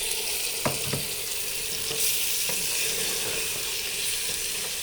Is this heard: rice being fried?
yes